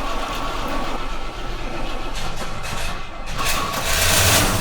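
A classic British Rover P5B's engine runs on its first start of the year, a loud, steady low rumble with a rising surge of revving near the end.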